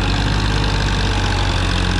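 A Sonalika DI-35 tractor engine runs steadily with a loaded trolley, a loud, close, continuous diesel drone and rumble with no pauses or voices.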